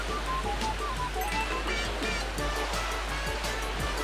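Ocean waves in a Super Mario Galaxy surfing level play as a continuous loud wash of surf under game music and small chiming effects, steady throughout with no talking.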